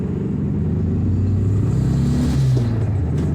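A 1970 VW Beetle pulls away in first gear, its engine a steady low droning rumble that rises slightly in pitch as it accelerates, heard close from inside the car with no talking.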